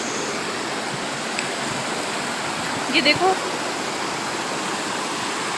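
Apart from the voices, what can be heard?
dirty water flowing in a stream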